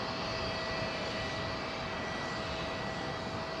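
Jet engines of an Air France Airbus A350 at London Heathrow, a dense, continuous roar with a steady whine on top, loud and unbroken throughout.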